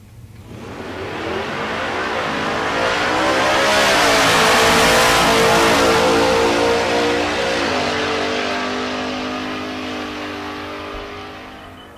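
Drag race cars, a big block entry and a naturally aspirated small block F-150, launch at Tulsa Raceway Park, engines roaring loud and close, rising through revs to a peak mid-run and then fading.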